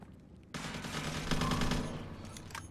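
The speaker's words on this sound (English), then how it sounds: "Oh, I hear so many gunshots." Dense gunfire in a competitive multiplayer shooter match, a sudden burst of overlapping shots kicking in and continuing as a loud sustained fusillade before easing off.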